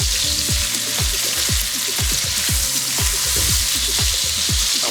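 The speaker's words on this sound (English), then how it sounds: "we're gonna cook the shrimp, and at the same time, we're giving like a beautiful flavor" Shrimp fry in hot spiced oil, a loud, dense sizzle with rapid popping and spitting bursts throughout, close and continuous.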